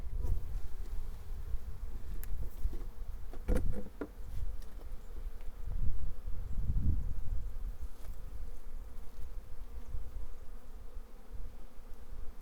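Honey bees buzz around freshly set-up nucleus hives on a homestead, a continuous close droning hum with a few sharper passes of individual bees near the listener.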